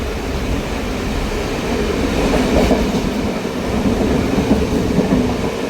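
A train on the newly restarted rail service toward Jaffna runs fast along the tracks, alongside the A9 highway, giving a steady, loud rolling rumble with faint clickety-clack throughout and no talking.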